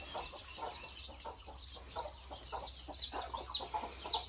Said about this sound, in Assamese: এতিয়া ইয়াতে এনেকৈ মই মুৰ্গীখিনি পালন কৰি আছোঁ।